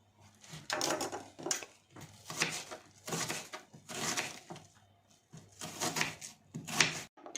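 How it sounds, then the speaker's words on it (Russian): A knife chops onion and sweet pepper on a board in a home kitchen, coming as irregular bursts of close thuds and crunchy cuts separated by short pauses, with no talk. "Нарезаем лучок и сладкий перец."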